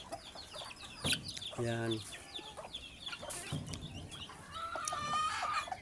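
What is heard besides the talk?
pet ducks being fed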